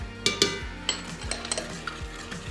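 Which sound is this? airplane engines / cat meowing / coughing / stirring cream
stirring cream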